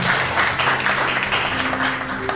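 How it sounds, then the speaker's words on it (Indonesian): A church congregation applauds in praise during a worship service, a steady dense wash of clapping with a faint sustained tone underneath. "Tepuk tangan bagi Tuhan"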